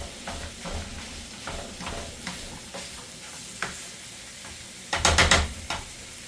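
Sausage and rice sizzle and get stirred in an already hot pan, a steady frying hiss with scraping stir strokes, then a louder burst of sizzling and clatter near the end, close up.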